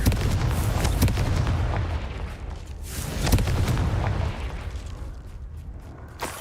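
Confringo fire-spell explosions burst in Hogwarts Legacy, loud booming blasts with sharp cracks standing out near the first second and again after three seconds, then trailing into a softer rumble.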